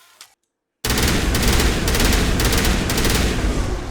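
A Tsunami rifle fires in Mass Effect: after a brief quiet, a loud sustained burst of rapid automatic shots rattles on without pause, dense and close, with no voices.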